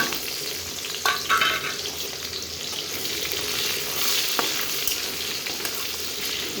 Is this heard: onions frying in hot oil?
yes